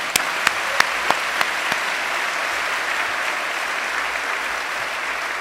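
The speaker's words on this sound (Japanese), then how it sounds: "ここでどうぞ温かい励ましの拍手をともさっきしていただきました" Audience applause of encouragement at a gathering in Japan, a dense, even patter of many hands clapping at moderate volume, with a few sharp knocks near the start.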